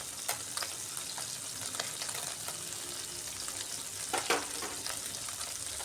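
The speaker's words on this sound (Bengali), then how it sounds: "এক সাইড আমি ভেজে নিচ্ছি।" Tengra fish, coated in turmeric, fry on one side in a pan over low gas, giving a steady broadband sizzle with a few brief crackles and spatula scrapes, close and alone without speech.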